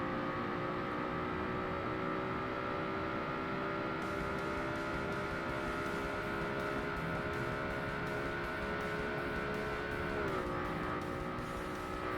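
A Porsche 911 race car engine in Forza Motorsport drones at high, steady revs through an endurance race, a sustained buzzing whine that dips briefly as it shifts or brakes near the end.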